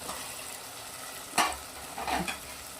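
Tomatoes and chopped potatoes fry in a pan under a steady low sizzle, with one sharp spoon scrape against the pan in the middle and a rougher burst of stirring near the end.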